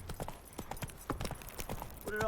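Horse hooves clip-clop at a steady trotting rhythm in The Witcher 3 video game, moderately loud and close, with a faint game voice now and then underneath.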